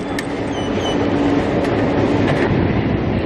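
A Kyiv metro subway train rumbles steadily close by, with a broad rolling roar and faint intermittent squeals and clicks, no voices.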